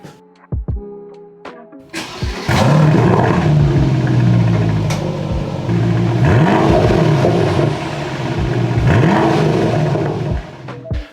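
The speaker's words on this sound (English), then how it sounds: "Number 10 for me has got to be the noise of this exhaust system." An Aston Martin DBX707 performs a loud start: a few clicks and a short whir, then the engine fires and roars through its exhaust system. It settles into a loud, close idle with repeated blips of revving.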